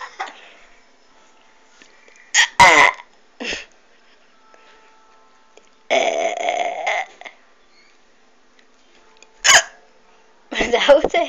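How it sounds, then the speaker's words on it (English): Several sharp, isolated hiccups spaced apart in a quiet room, close and abrupt, with a few short vocal sounds between them. "That was a hiccup."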